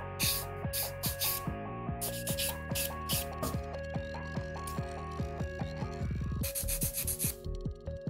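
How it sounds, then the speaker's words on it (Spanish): A 180/180 buffer nail file smoothing scratches off a sculpted acrylic nail, with fast rhythmic rasping strokes repeated close up and loud, a brief steadier rubbing burst near the end. "con mi lima 180-180 pulidor vamos a retirar las rayaduras que dejamos con las limas anteriores"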